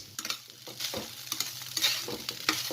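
Rice cooked with mango and lemon is stirred in a pan with homemade spice mix, giving a soft sizzle under quick, irregular scraping and tapping strokes close by, with no voices.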